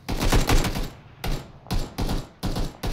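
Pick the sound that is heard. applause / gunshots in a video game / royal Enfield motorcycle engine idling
gunshots in a video game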